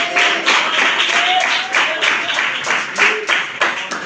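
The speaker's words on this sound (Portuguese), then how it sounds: "Pode bater nas palmas e adorar a Deus feliz." Worshippers clap in a steady rhythm during an evening church service, the dense, close hand claps continuous throughout with a faint melodic tone underneath.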